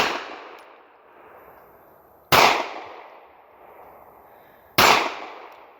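Two loud 9mm Glock 19 shots, each followed by a ringing metallic clang from a steel target, spaced a couple of seconds apart with long fading tails outdoors.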